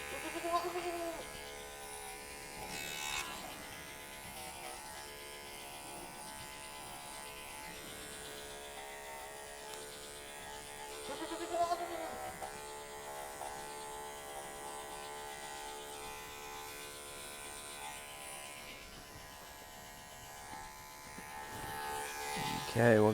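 Andis electric hair clippers run on a market wether goat, giving a steady, continuous buzzing hum across the whole stretch, with a person talking over the clipping.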